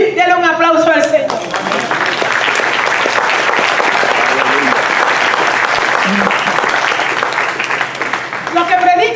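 A church congregation breaks into applause for the Lord during a sermon, a loud dense wash of clapping that swells for several seconds between short stretches of a voice at the start and end.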